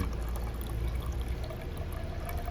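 Water is poured into the cooling system of a Honda Pilot with a coolant leak, a steady hissing, gurgling flow heard close and fairly quiet for the whole stretch.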